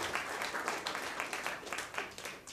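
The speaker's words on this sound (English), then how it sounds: "Please can we give them a round of applause?" Audience applauding at a Debian conference talk, a steady wash of many hands clapping close and moderately loud, with no voices over it.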